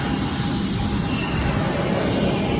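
A loud, steady airplane engine drone heard from inside the cabin on a Nakhon Si Thammarat to Khon Kaen flight, with a thin, high whine running unbroken throughout, close and constant, with no voices.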